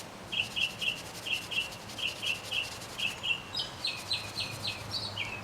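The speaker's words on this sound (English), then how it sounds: "But just your regular kitchen scrubby thingy." Steady rhythmic rubbing of a Scrub Buddies kitchen scouring pad over a Mazda 626 valve cover, about a dozen even strokes in a row, close and moderately loud with no talking.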